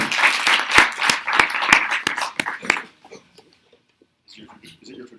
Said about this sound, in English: Is it your tradition to clap first?